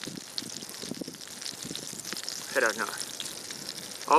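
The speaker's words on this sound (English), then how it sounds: "Oh, that nice sizzle." Butter, cheese and meat sizzling in a pan outdoors on a mountain, a soft continuous crackle with faint popping, while a person talks over it.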